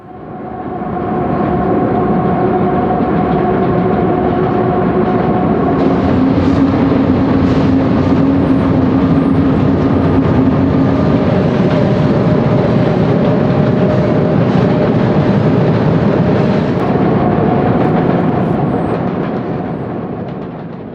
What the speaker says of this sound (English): they are subjected to the sounds of passing trains